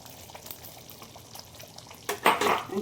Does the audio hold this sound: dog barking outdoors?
no